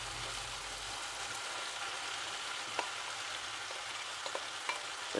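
Boiled saltfish frying with chili flakes in a hot pan, a steady broadband sizzle with occasional light scrapes from stirring, close and continuous.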